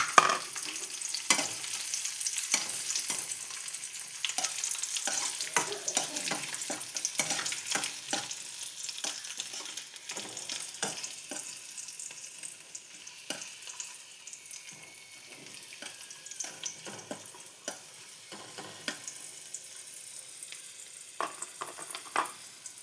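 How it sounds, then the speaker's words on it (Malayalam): Raisins go into payasam and get stirred, with quiet sizzling and a long series of irregular scraping and tapping strokes close by. "പിന്നെ മുന്തിരി ഇട്ട് കൊടുക്കാം"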